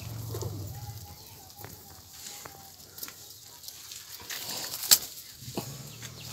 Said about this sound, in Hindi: ये मेरा कबूतर का लॉफ्ट है,